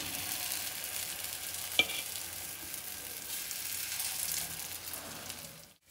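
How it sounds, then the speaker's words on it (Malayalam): Paniyaram fry in oil in a pan and are turned over, giving a steady soft sizzle with one sharp click of the flipping tool, fading out at the end. "ഇപ്പം നമ്മൾ പനിയാരപ്പം മറിച്ചിട്ടുകൊണ്ടിരിക്കുകയാണ്"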